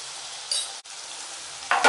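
Turkey berries and turmeric dropped into a hot pan of sautéed onions and tomatoes, a close bright sizzle that briefly dips, then flares louder at the end.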